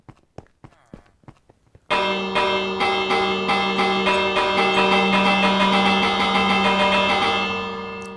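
A Minecraft doorbell opens with a few short clicks, then breaks into a bright, loud ringing chime struck over and over for several seconds before it fades.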